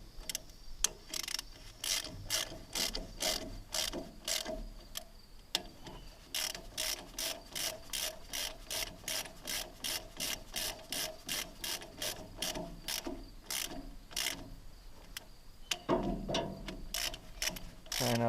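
Ratchet snugging bolts on a Case VAC tractor that has not run since 1969, steady rapid clicking in quick repeated strokes with brief pauses between bolts, close and fairly quiet, with no talk.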